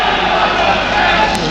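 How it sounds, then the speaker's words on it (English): Boston United supporters cheering their side during a football match away at Rochdale, a loud, steady wash of crowd noise with no breaks. "Boston fans trying to cheer on their side."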